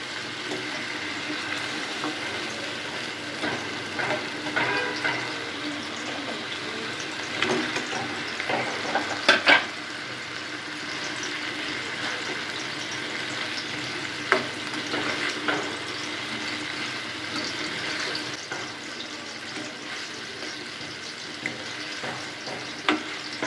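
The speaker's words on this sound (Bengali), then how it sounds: "মশলাটা ভালোভাবে কষানো হয়ে গিয়েছে, এখন মাংসগুলো দিয়ে দেব।" Meat fries in a well-cooked spice masala, a soft continuous sizzle with intermittent scraping and knocking of a stirring spoon against the pot, fairly close and steady for a long stretch.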